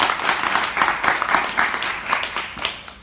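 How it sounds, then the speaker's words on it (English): Quick round of applause and clapping from an audience at a tech industry diversity panel, a steady patter of many hands lasting a few seconds at moderate volume. "maybe you'll just like a little quick round of applause before I introduce everybody"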